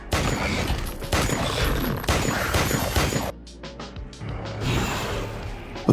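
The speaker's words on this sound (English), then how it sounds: "Without hesitation, she fired a burst." A burst of gunfire in a monster combat scene, loud crackling shots packed into the first three seconds, then a quieter stretch with scattered clicks and impacts.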